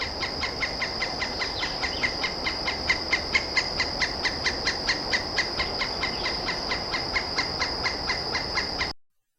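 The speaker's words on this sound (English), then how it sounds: "And the sounds he makes while foraging are the lowest." A pileated woodpecker foraging, giving a steady run of evenly spaced, sharp taps about three per second for roughly nine seconds, fairly close and consistent in loudness.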